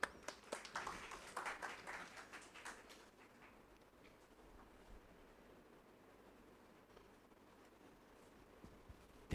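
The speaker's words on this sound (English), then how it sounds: "Can we have a round of applause for that?" A conference audience in a hall gives a short burst of scattered, faint clapping for about three seconds. It then fades into quiet room tone with a soft low hum.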